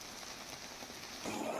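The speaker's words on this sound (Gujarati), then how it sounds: "એ પ્રકારે વરસાદ વરસી રહ્યો છે" Heavy rain pours down steadily onto a road during a thunderstorm, a dense continuous patter heard alone without any voices, swelling slightly louder near the end.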